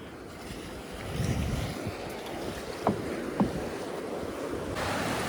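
Waves wash against a small fishing boat coming in to the shore, a steady churning rush with wind noise across the microphone and a couple of sharp knocks partway through.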